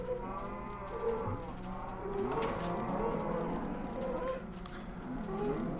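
Cows mooing in the video game Minecraft, several low, drawn-out moos overlapping one another at moderate loudness against a steady background of game sound.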